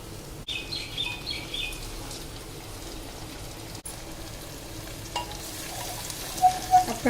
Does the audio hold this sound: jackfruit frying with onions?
yes